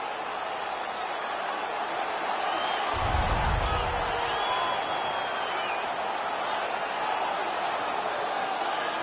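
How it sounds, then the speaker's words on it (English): Hockey arena crowd in NHL 19 at a St. Louis Blues versus Dallas Stars game, a steady roar of cheering throughout with a brief low thump near the middle and faint voices mixed in. "The crowd is so pumped right now."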